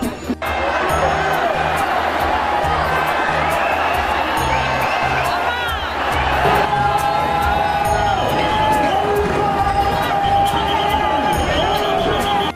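A large crowd of devotees claps and cheers as the temple chariot arrives at the Srivilliputhur chariot festival in 2023, a loud continuous roar of voices and hands that never lets up.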